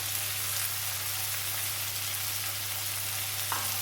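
Broad beans hitting a pan of softened frying tomato curry give a steady, close sizzle with a continuous low hum underneath and a small clatter near the end, with no talking.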